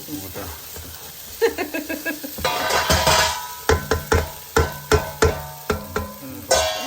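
Tomatoes for tomato rice sizzle in a pan, with frying hiss under a series of rhythmic scraping stirs from a spoon, close and moderately loud.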